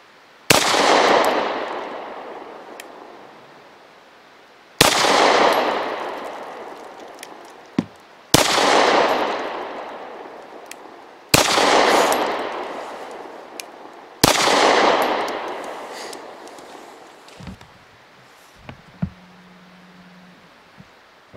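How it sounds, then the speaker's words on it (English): An Honor Defense Honor Guard 9mm pistol is test fired at a range, with five loud, sharp shots spaced a few seconds apart, each trailing off in a long echo. "we'll get this out to the range and do some test firing"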